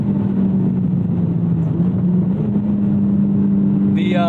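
A 2014 Mitsubishi Lancer Evolution X turbo engine revs toward 7,500 RPM, a steady close drone holding a rising tone, with a brief higher whine near the end.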